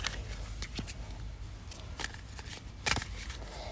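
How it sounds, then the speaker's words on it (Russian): A deck of oracle cards being shuffled by hand, close and fairly quiet, with soft riffling swishes and a sharper flurry of card slaps near the end. "И теперь мы опять перемешиваем все карты."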